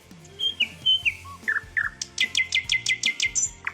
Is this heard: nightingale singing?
yes